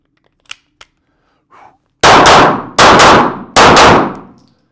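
Loud, close gunshots fired in quick double taps at a shooting range ring out as three sharp, echoing blasts, each decaying before the next, after a few faint clicks.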